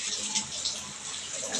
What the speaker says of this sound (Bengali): আলুগুলোকেও আমি প্রথমে একটু ধুয়ে নেবো জল দিয়ে।